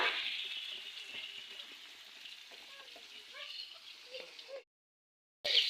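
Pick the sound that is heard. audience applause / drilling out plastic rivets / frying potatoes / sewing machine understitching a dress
frying potatoes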